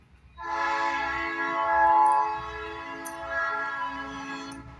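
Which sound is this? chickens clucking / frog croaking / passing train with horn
passing train with horn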